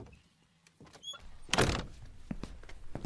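A front door opens and shuts indoors in a theatre show, a short creak followed by a solid thunk and some shuffling, with no speech.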